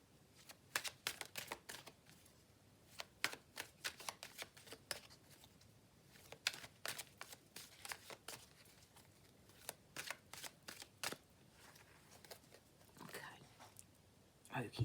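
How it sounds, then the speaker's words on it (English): A deck of tarot cards shuffled by hand, close rapid riffling and slapping bursts repeating in an uneven rhythm over a quiet room. "I will shuffle this deck and pull out the card"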